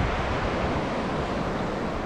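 Sea waves roll at a reef as a continuous loud roar of surf mixed with wind rumble against the microphone, steady and close.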